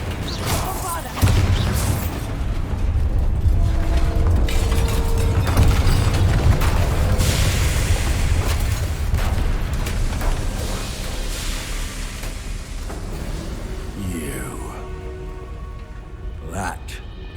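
Repeated blasting-spell explosions battering a large drill in a fantasy video game, booming impacts and crumbling debris over a dense roaring bed, with a voice calling out the spell between blasts.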